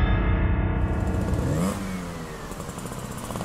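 A motorcycle engine revs hard and then pulls away, its pitch sweeping up partway through before settling into a steady running drone, loud and close throughout with no voices.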